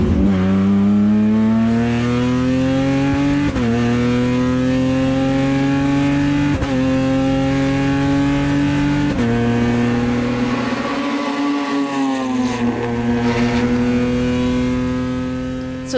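Small stock-car-style race cars with 3.6-liter V6 engines roar loudly and continuously, the engine note climbing through gears with repeated sharp upshifts and a brief lift before pulling again.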